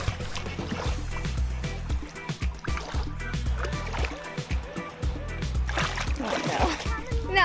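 A released fish splashes into the sea off a beach near Hideaway Bay, with choppy water sloshing and splattering up close while wind buffets and voices carry underneath.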